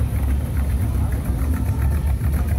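Engine of a vintage Mercedes-Benz car at a car show, a steady mid-pitched running drone passing nearby at moderate level, with faint voices in the background.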